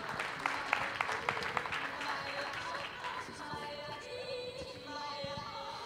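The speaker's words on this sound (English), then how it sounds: "A round of applause." Audience applause at a startup pitch day in Chicago as a company founder is welcomed to the stage, steady clapping with a few sharp claps early, then fading into crowd murmur and voices.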